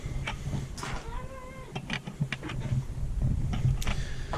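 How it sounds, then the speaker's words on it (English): A cat meows a few times in a room, short rising and falling cries over steady low background noise and scattered clicks. "let me get rid of the cat"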